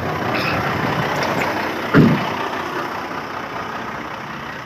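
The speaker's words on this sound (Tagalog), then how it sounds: "Ito yung sasakyan nila." A heavy truck from a chassis trailer company's fleet idles steadily close by, a low continuous engine rumble with a brief louder thump partway through.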